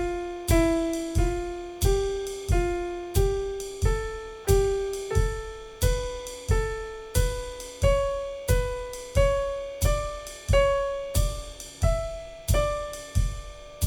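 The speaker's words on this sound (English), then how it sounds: "So if I were going to do that with a D melodic minor scale, and we were going to just use quarter notes" A D melodic minor scale played note by note in even quarter notes, each tone struck cleanly and decaying, with a pulse of three accents repeating across the run, alone without talk.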